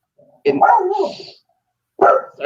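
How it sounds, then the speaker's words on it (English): A dog barks nearby, one longer bark followed by another short one after a brief pause. "Oh, it's somebody else's dog this time."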